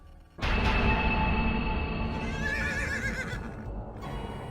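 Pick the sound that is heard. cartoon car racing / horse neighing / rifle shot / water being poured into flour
horse neighing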